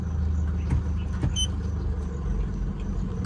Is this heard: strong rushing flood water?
no